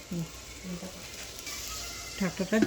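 Spice masala with black chickpeas stirred and fried in a pan, a low continuous sizzle with scraping strokes of a spoon, near and moderately loud, and a voice briefly heard alongside.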